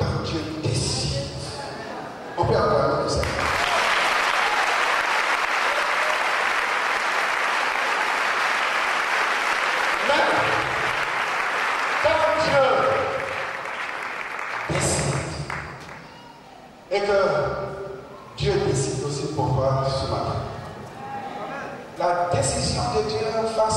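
A church congregation applauds loudly during a Sunday praise and worship service, a sustained burst of clapping that swells and holds for several seconds, then breaks into shorter rounds of applause mixed with voices and cheering.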